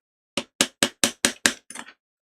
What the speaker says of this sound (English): like hammering a bit in the correct position you want, like that.